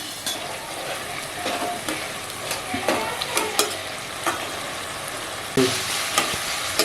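Fish heads with salt and turmeric fry on a low flame, a steady sizzle broken by repeated spoon scrapes and knocks against the pan, close and clear.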